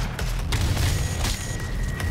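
Booming explosions from the 2016 DOOM video game sound as a dense, continuous low-end roar with several sharp bursts cutting through, loud and close throughout, with no talking.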